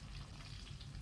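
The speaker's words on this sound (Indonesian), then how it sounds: "Lalu kita goreng aja bawang merahnya." Sliced shallots fry in hot oil with a steady, dense sizzle and crackle, heard close up and alone.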